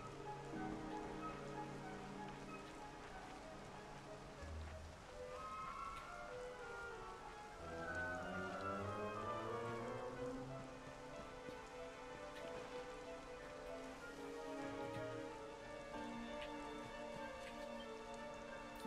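Rain falls steadily in the video game Dragon Quest 11, a faint continuous hiss beneath sustained, slowly shifting game music notes that dominate throughout, with no talking.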